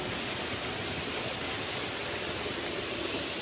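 Rushing water at the source of the Asenema Waterfall roars as a loud, dense, unbroken hiss close by, steady throughout with no speech over it.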